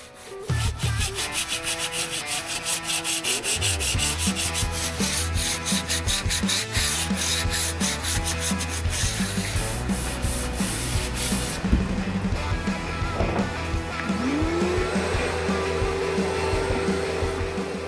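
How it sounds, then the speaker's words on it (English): Sandpaper of 80 grit rubs steadily over boat surfaces beside a storage area, a close, continuous scratchy rasp with rhythmic back-and-forth strokes and no talking. "we first needed to sand down all the surfaces with 80 grit sandpaper"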